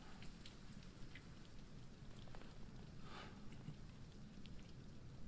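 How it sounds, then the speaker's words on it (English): Steady acid rain falls and patters in the video game Death Stranding, a soft, even hiss of drops on surfaces with no talking. "It's an acid rain"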